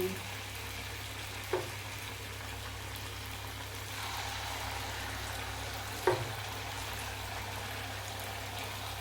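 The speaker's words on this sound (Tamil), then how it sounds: "நல்லா பொரியுது, சூப்பராக வச்சு எடுத்துக்கலாம்" Nendran banana fritters (pazham pori) deep-frying in hot oil give a faint, even bubbling hiss throughout, broken by two brief clicks.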